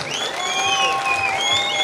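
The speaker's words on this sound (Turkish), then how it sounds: "Kocaman bir alkış istiyoruz" Applause for the governor at a lamb-shearing festival in Beytüşşebap, Turkey, a thick, continuous crowd clapping with some cheering mixed in, loud and close, while music with whistling melodic lines plays over it.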